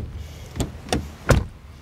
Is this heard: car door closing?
yes